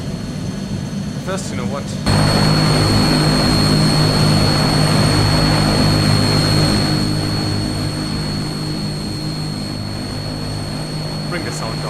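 A propeller aircraft engine in Microsoft Flight Simulator 2020 steps up suddenly into a loud, steady droning roar with a high whine, holding then easing slightly; someone speaks briefly before the surge.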